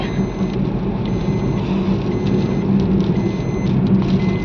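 Steady rain pours down during a beach trip, a dense, continuous hiss with a low rumble beneath it, even and close throughout.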